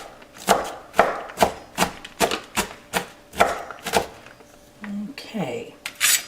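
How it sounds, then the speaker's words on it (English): A knife chops omelette ingredients on a cutting board in a home kitchen, about a dozen crisp, evenly spaced thunks, close and clear, followed by a brief clatter of utensils. "you can just chop them up right here on the cutting board"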